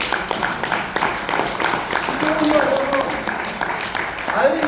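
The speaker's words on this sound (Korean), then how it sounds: "박수 한번 주세요." Audience at a lecture on Korean reunification claps, a dense, fairly close wash of applause lasting several seconds, with a few voices calling out faintly through it.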